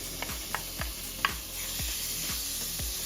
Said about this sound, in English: We're just going to take our bacon and we're just going to put it right in our pan.